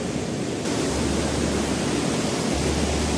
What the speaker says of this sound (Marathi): हा आहे तो धबधबा.